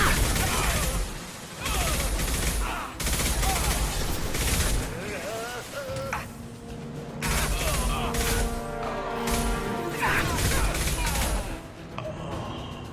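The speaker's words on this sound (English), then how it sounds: "Blue Suns and Vorcha shooting anything that moves." Blue Suns mercenaries and Vorcha exchange gunfire in the video game Mass Effect 2, with repeated loud bursts of shots and clanking impacts in choppy volleys over the whole stretch.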